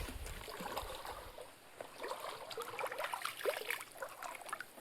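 A small forest river stream flows and trickles over stones, a faint, continuous babble with scattered splashy gurgles.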